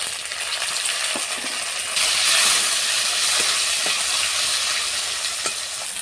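Tomato pieces sizzle and hiss steadily in a hot pan for katla fish roe curry, a close, continuous frying sound that swells louder partway through, with faint stirring knocks.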